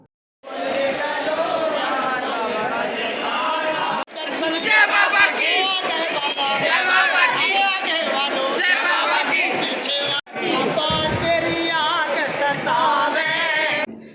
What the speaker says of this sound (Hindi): हम लोग लाइन में लगे हुए थे, बहुत बहुत तगड़े वाली भीड़ लगी हुई थी